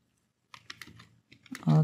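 Keys clatter on a computer keyboard while text is typed in Photoshop: a short burst of a few quick taps, a pause, then more taps before a voice briefly cuts in.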